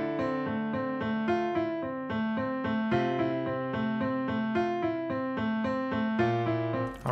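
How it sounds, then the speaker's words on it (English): Solo unprocessed piano from a simple music loop, playing a steady rhythmic chord pattern with repeated even attacks, clear and close with no other instruments or voices. "Now let's just solo the piano."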